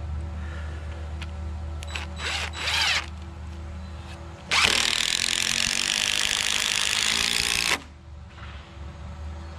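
Power drill driving lag screws into a beam of a post-and-beam barn kit: a few short bursts early on, then one long, loud continuous drive of about three seconds that stops abruptly, with no talk.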